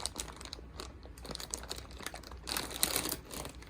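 A plastic zipper seal bag from a jewelry unboxing is pressed shut and crinkled, giving close, irregular crackling and rustling bursts that grow busier and louder toward the end.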